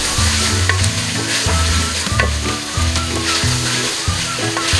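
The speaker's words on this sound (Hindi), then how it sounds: "बॉईल किया हुआ बीफ इसके अंदर डाल दूंगी। 3 से 4 मिनट इसकी अच्छे से फ्राई करनी है।" Boiled boneless beef fries in hot oil in a pan, a loud continuous sizzle with repeated scraping stirring strokes every second or so, close up and without talk.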